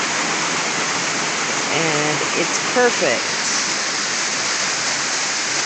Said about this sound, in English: Honestly, I haven't seen such a nice waterfall in such a long time.